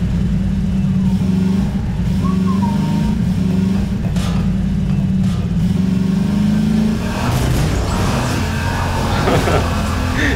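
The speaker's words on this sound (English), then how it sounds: "Man, this turbo is really fun, but it's like kind of glitchy." A vehicle's turbo-boosted engine revs in the game Below the Ice, a loud, continuous motor drone that holds steady, then swells and shifts in pitch toward the end as it accelerates.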